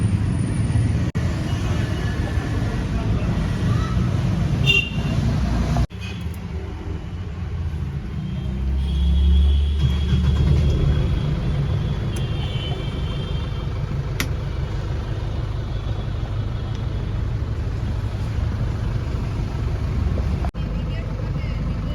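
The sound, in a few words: car being started and driven off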